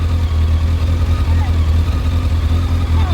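A vehicle engine idling just after being run at higher revs to charge the battery, a loud, steady low rumble close by, continuous throughout with a slight wavering pulse.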